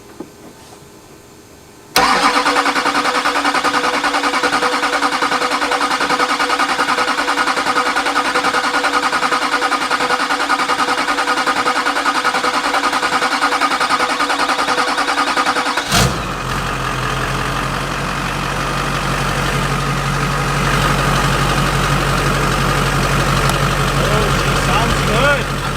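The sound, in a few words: Duramax diesel truck engine cranking over, starting and idling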